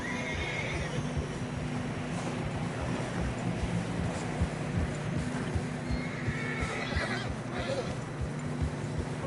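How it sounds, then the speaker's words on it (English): Horses in Red Dead Redemption struggle through fresh snow, whinnying and snorting over steady hoof thuds and a low rumbling background, with a few quiet voices in the mix. "Horses are struggling."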